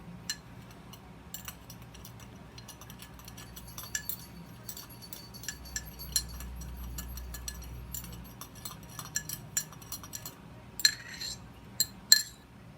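A metal spoon stirs crystal powder into liquid in a glass during a science experiment, producing repeated light clinks and taps against the glass, faint and sporadic with quicker clinking near the end.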